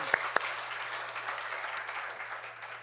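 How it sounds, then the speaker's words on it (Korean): Congregation applauding together during a Sunday church worship service, an even wash of clapping with a few sharp louder claps near the start, no voices over it. "우리 함께 영광의 박수 올려드리겠습니다"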